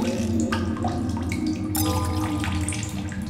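Water bottles being filled in The Solus Project: running water pours and splashes steadily, with gurgling shifts in pitch as each bottle fills, close and continuous.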